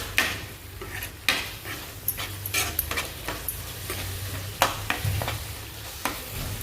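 Spoon stirring hatthi kayi palya in a pan after salt and turmeric go in, with a soft sizzle and a run of irregular scraping and clinking strokes against the metal, close and fairly quiet.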